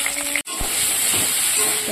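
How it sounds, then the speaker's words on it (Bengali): Potatoes frying in a pan for a Bengali fish curry, a steady close sizzle and hiss that drops out for an instant before resuming evenly. "এবার আমি আলুটা বসিয়ে দিয়েছি, আলুটা একটু ভেজে নেবো।"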